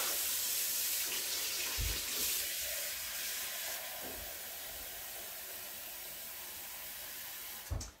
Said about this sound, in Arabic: غادي نزيد شويه الماء دافي عليه